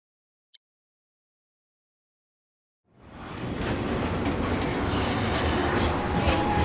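Train in Final Fantasy 7 Remake, a steady rumbling roar that fades in after near silence broken by one brief click, then holds loud and even.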